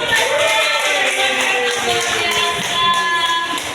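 A group applauds steadily at an indoor gathering, with dense, continuous clapping at constant loudness for several seconds while voices carry on underneath.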